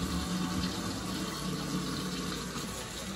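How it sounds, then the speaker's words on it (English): Steady running tap water splashes over a kitchen knife being rinsed at a sink, a continuous broadband gush with no talking. "Rinse it off a little better."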